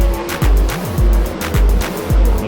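Race cars at a short-track event, including Shane Golovic and the 83 Junior of Kyle Hirst, roar past one after another in lap traffic coming off turn 2, with loud, repeated engine surges and pitch drops as each car passes close by.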